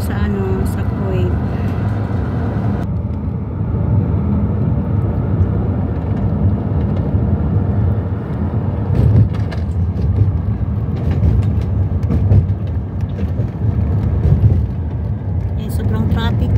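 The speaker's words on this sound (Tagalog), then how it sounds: "Sobrang traffic na yun." Steady road traffic rumble from inside a moving vehicle in Kuwait, loud and continuous low engine and tire noise with passing vehicles, a person talking over it at times.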